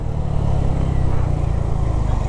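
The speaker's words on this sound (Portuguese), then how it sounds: "a Biz aqui, rapaziada, é uma moto que eu gosto muito" A Honda Biz 125 motorcycle rides at night, its engine droning loud and steady at close range with a rough, even rumble and no talk over it.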